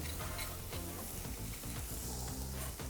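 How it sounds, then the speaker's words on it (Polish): Finely diced onion fries in a pan with a couple of spoons of oil, a continuous bright sizzle that sits beneath loud, rhythmic background music throughout. "Kroimy drobno w kostkę cebulę i przesmażamy na złoty kolor."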